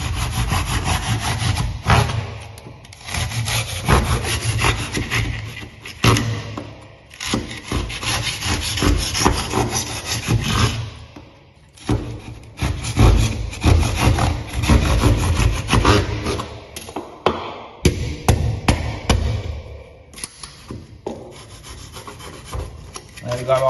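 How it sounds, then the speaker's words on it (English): A plasterboard saw cutting a hole through a wall while building ducting for a kiln: loud, close, rhythmic rasping strokes that go on steadily, with a few short pauses between runs of sawing. "I just get a plasterboard saw"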